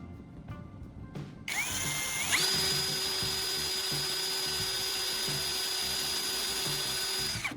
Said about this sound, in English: I'll use a small drill bit on my electric drill to carefully bore these 2 holes.